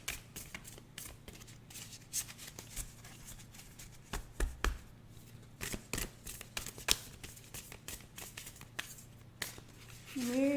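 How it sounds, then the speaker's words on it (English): Tarot cards are shuffled by hand close up: a rapid run of soft papery riffles and slaps in uneven bursts at fairly low volume, with a brief voice near the end. "So let's get a tarot card out."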